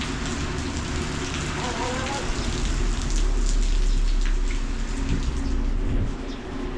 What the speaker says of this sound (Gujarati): નીકળ્યા ને ત્યારે વરસાદ હતો ને અત્યારે વરસાદ.